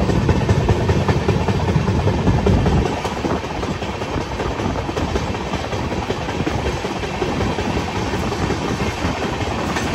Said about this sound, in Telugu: సో ఇటార్సీ జంక్షన్ నుంచి అయితే ట్రైన్ అయితే కదిలింది.